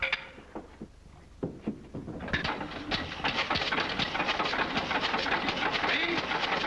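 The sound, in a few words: engine running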